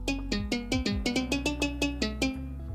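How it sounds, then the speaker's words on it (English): Plucked guitar notes in Minecraft strum in a steady rhythm, bright and twangy with a slightly sour, off-tune ring, played close. "Then we have this crappy guitar that's not in tune"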